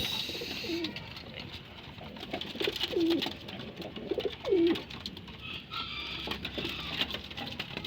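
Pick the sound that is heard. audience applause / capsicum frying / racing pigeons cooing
racing pigeons cooing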